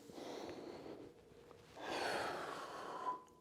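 A slow, soft inhalation during a posture exercise, faint airy breath that swells in the second half, close and quiet with no talk over it.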